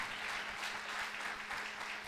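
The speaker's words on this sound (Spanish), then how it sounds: "Vamos a ofrecer una ofrenda de palmas." A church congregation claps together in a steady, even round of applause, with no voices over it.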